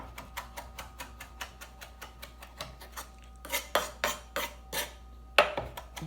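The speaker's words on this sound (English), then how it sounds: "Chopping it real finely." Rapid rhythmic knife chops on a cutting board while finely chopping guacamole ingredients, a steady run of sharp taps that turns louder and more irregular toward the end.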